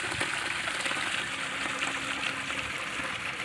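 Water rushes steadily through drip irrigation lines on a moringa farm, a soft continuous gushing flow with no voices over it.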